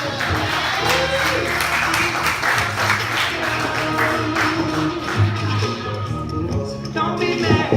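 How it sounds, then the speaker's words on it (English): A live comedy club audience claps and cheers for a comedian taking the stage, a dense, steady wash of applause with crowd noise and music underneath. "Start clapping right now for the very lovely,"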